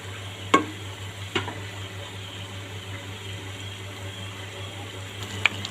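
Kala bhuna beef in a pot, Chittagong style, stirred with a few sharp scraping knocks over a steady low simmering hiss and hum.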